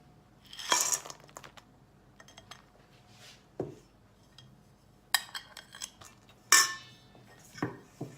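Dry fruits tossed in flour in a bowl for a vegan carrot cake, with sparse clinks and scrapes of a spoon against the bowl, a few sharper metallic knocks between quiet stretches, close and without talk.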